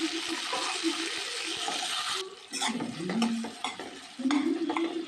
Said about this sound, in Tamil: நல்லா எண்ணெயில் வதக்கி விட்டுக்கிறேனுங்க.